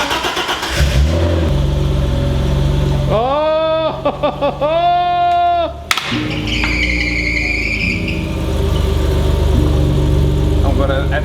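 A BMW E30 engine with a freshly swapped manual gearbox starts and revs in short rising bursts, then settles into a steady mid-pitched running note, loud and close.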